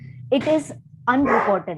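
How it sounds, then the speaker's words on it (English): A pet dog barks twice in sharp, yipping bursts close to the microphone, with a steady low hum underneath throughout. "I'm so sorry, that's my dog."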